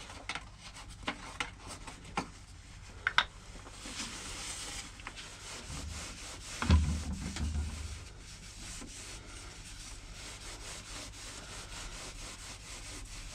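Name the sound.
sanding a purpleheart wood bowl on the lathe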